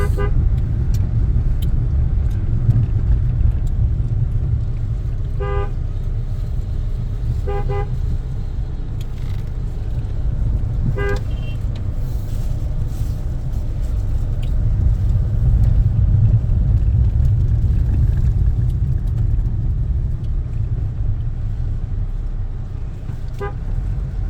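A car runs along a rural road in Cox's Bazar with a loud, steady low engine rumble throughout, and a few short horn toots sound near the start and middle.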